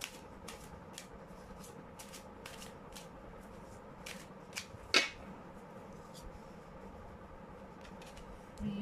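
A tarot deck, Mermaid Tarot, is shuffled by hand at close range: repeated soft riffling and card slaps in an irregular rhythm over a low background hum, with one sharper snap midway.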